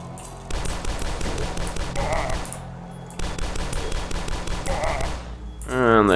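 Rapid pistol gunfire in the retro first-person shooter DUSK, bursts of quick repeated shots over game music, with a short pause mid-clip and a swelling tonal effect at the end.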